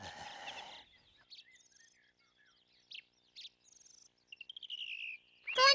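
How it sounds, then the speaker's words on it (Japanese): Small birds chirp and tweet in short, scattered bursts after a brief opening sound, with high twittering calls that build toward the end in a quiet outdoor scene. "こんにちは、小鳥さんたち。"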